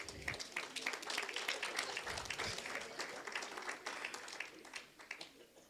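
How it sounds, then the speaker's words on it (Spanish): Audience applause at a church sermon series, a sustained wash of clapping from a crowd, moderately loud and fairly steady, tapering slightly toward the end. "Un aplauso al Kiko de ayer."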